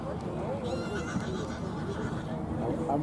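At the Balmoral show, during a ridden hunter class for four- and five-year-old horses, a horse neighs under a nearby voice talking, with arena noise filling the background.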